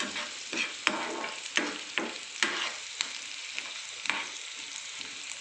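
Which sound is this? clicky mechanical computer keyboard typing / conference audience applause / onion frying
onion frying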